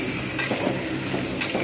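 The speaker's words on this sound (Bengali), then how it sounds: "জাস্ট আমি হালকা করে নেড়ে নেব।" Spices are stirred gently in a hot frying pan for a Bengali bitter gourd dish, with a steady sizzle and soft scraping strokes close by.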